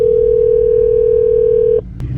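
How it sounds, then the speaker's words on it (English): A steady, loud telephone ringing tone on an outgoing call from a Ford F150 truck's hands-free system, holding for nearly two seconds and then cutting off, with a short click after. "Pick up the phone."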